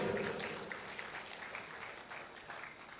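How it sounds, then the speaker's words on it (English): Clapping from a campus audience at a youth event in Puducherry, a soft, distant-sounding wash of applause that stays fairly even and fades slightly toward the end. "yes, I expected this clap when she was presenting there"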